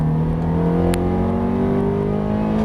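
A Ferrari F430 engine drones loud and close under light throttle, a steady rising tone with no talk over it.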